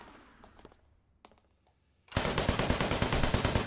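Rapid automatic gunfire from a handgun in the action video game Wanted: Dead erupts loud and dense after about two seconds of quiet, sparse clicks, continuing as a steady burst to the end.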